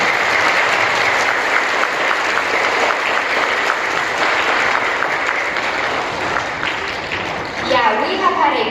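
Elementary school children at a welcome-back assembly clap loudly together in a long, dense burst that fades near the end, where a voice starts speaking over it.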